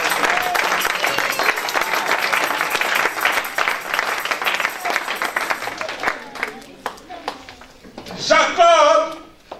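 A church congregation applauds to acclaim God: dense, loud clapping fills the first six seconds, then thins into scattered claps with voices and brief louder crowd sounds near the end.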